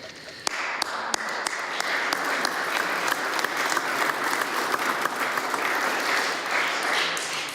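An audience at a Nova Scotia Medal of Bravery award ceremony applauds the staff, with dense, sustained clapping throughout and a few sharper claps standing out near the start.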